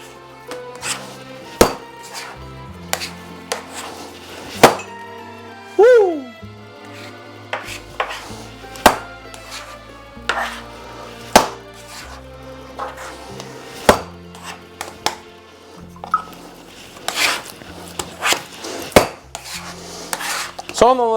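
Neapolitan pizza dough being slapped, scraped and worked together on a table, with repeated sharp thumps and scraping knocks at an irregular rhythm, close and fairly loud, no talking.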